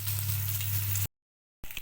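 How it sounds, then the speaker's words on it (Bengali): Salted eggs fry in oil in a pan with a steady close sizzle over a low hum. The sound cuts out completely for about half a second, then returns. "এবার ভালো করে ভেজে নেব।"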